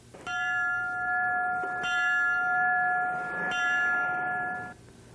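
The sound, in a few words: three fire station bells rung in farewell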